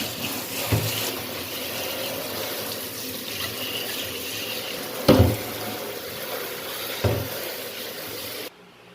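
Tap water runs steadily into a kitchen sink while a dish soap dispenser bottle is washed, with a few close knocks and splashes of plastic against the basin.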